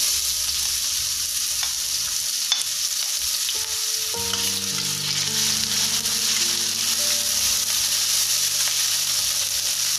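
Shallots sizzle in hot oil in a pan for fried noodles, a steady loud frying hiss throughout with occasional stirring scrapes and a low hum underneath.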